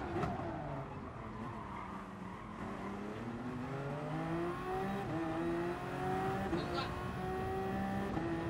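Race cars in the Gran Turismo Sport video game on PS4 drone steadily with engine notes that rise and fall as gears shift, under continuous game audio, moderately quiet with no distinct voices.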